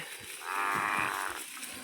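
A cow in a sesame field moos once, a single drawn-out low call of moderate loudness heard on its own with faint background.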